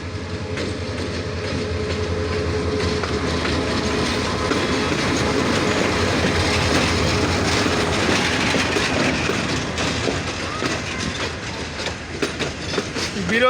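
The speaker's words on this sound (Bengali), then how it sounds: "সে বর্তমানে পার্বতীপুর জংশন ইন করতেছে" The Dinajpur Commuter train, hauled by locomotive 2930, entering Parbatipur Junction: a loud, continuous rolling rumble with rhythmic wheel clatter and occasional faint squeals, steady throughout.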